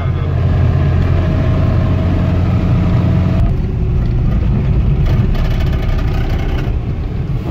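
A custom UAZ off-road convertible fitted with VAZ-2108 doors idles loudly and steadily nearby, a constant low rumble that shifts slightly partway through, with no voices.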